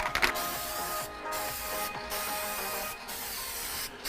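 A steady, close hiss of coating being sprayed onto a car headlight during a restoration, running in sustained passes broken by three or four short pauses.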